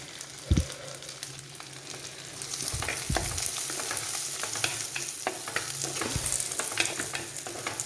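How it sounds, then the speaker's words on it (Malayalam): Small shallots dropped into hot oil for a chicken thoran, a bright steady sizzle close up, punctuated by a few thuds and scrapes of stirring in the pan. "നമുക്ക് കൊച്ചുള്ളി ഇട്ട് കൊടുക്കാം."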